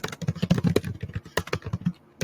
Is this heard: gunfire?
no